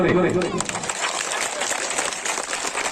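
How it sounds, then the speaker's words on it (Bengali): Audience clapping at a local award ceremony honouring clubs and schools, a dense steady burst of applause running throughout, with a voice heard briefly at the start. "হাততালি জোরে"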